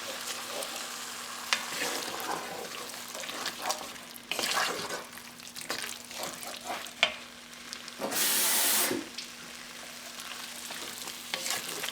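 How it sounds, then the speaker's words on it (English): Flour and water slurry being stirred into mushroom gravy over low heat, a soft sizzle with repeated scraping and stirring strokes and a short burst of pouring near the end. "Now over a low heat I'm going to slowly add in the flour water slurry,"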